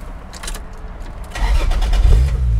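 A 2000 Ford Lightning pickup with a Tremec six-speed starts up: a brief cranking after some clicks, then the engine catches into a deep, loud, rumbling idle.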